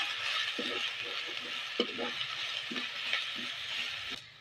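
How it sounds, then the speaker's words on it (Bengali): A spoon stirs and scrapes ground cumin, coriander and chili masala frying in a pan, with soft scattered clinks and scrapes over a steady low sizzle; no talking. "জিরে গুঁড়ো ধনে গুঁড়ো লঙ্কা গুঁড়ো নেড়ে চেড়ে মশলাটা কষিয়ে নেবো"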